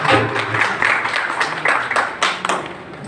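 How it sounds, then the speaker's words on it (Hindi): An outdoor street play audience at a green plantation event gives loud applause, with close, dense clapping in uneven bursts and some voices mixed in. "तो आइए इसी के साथ जोरदार ताली।"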